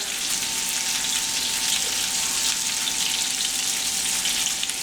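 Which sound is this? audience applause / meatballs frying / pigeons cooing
meatballs frying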